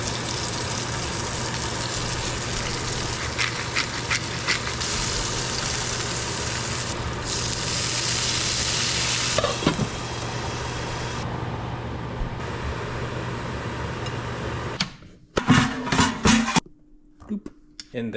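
Eggs, including an heirloom egg, fry in a pan with a steady, broad sizzling hiss that runs for most of the stretch, then a few brief clattering knocks near the end.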